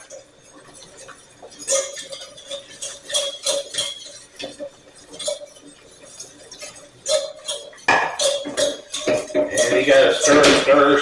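Milk and flour sauce being stirred in a pan for a potato and cauliflower au gratin: repeated clinking and scraping of a utensil against the pan, getting busier and louder near the end, with a voice speaking briefly.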